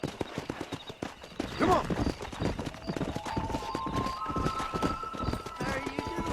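Horse hooves clip-clop at a brisk, steady pace while riding in Red Dead Redemption, with a neigh partway through and a voice speaking over the hoofbeats.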